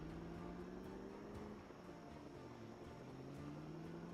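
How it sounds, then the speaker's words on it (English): Helicopter in Project Zomboid, a steady low droning engine with a pulsing rotor beat that holds at moderate distance for the whole stretch, slightly waning midway before swelling again; no one speaks. "Yes, helicopter, my beloved."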